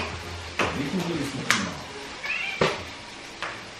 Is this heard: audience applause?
no